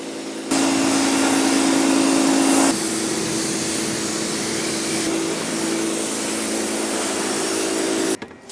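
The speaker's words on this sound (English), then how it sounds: "we're just going to foam it up again with the pressure washer" Pressure washer running during a car wash, a loud, steady hissing spray with a constant motor drone that shifts pitch a few times before cutting off abruptly near the end.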